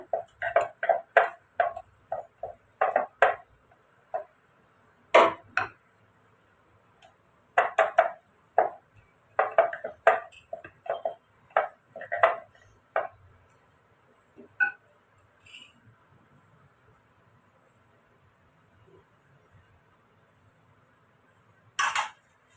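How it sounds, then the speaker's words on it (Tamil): A knife taps rapidly against a cutting board chopping onions finely, in bursts of quick, even chops, with short pauses between runs and a clack near the end. "எவ்வளோ வெங்காயம் பொடியை நறுக்கணுமோ அவ்வளோ அளவுக்கு நீங்கள் வெங்காயம் பொடியை நறுக்கிடுங்க"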